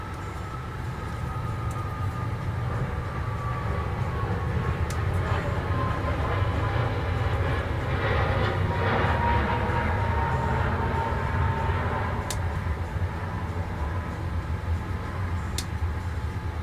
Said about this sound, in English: another plane taking off